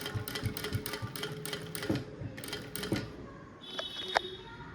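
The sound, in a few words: hand embroidery stitching on a kurti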